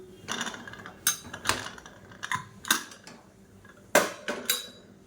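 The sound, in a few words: stirring ghee rice in a pan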